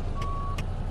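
A Kenworth K100 truck in American Truck Simulator backs up, its reversing alarm giving three short, evenly spaced electronic beeps over a low, steady engine idle.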